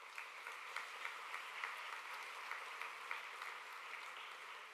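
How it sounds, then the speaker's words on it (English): Steady audience applause at an awards ceremony for eircom partners, a continuous wash of many hands clapping at moderate distance with no voices over it. "A huge round of applause for the guys from eircom."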